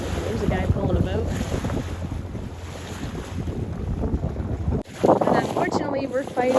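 Steady wind roars across the microphone on a sailboat with water sloshing beneath, a continuous blustery rush that briefly cuts out before gusting back.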